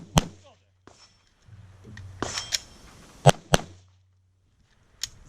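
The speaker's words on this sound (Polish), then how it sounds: "strzał, zejście szybkie, strzał z klęczącej i znowu strzał" Sharp gunshots crack during tactical shooting training, a quick pair then a couple of separate shots and a final one, loud and close with short echoes, with a voice briefly between them.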